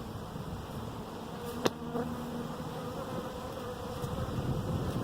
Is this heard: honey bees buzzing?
yes